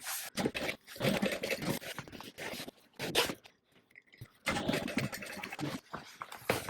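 A sewing machine stitching an X onto a bag, bursts of rapid mechanical whirring and needle chatter separated by brief pauses, close and fairly loud.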